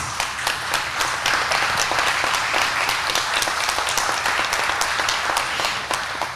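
An audience at a signing ceremony applauds a donation to Colegio San Antonio, dense clapping that stays loud and even throughout, with sharper individual claps standing out in the wash.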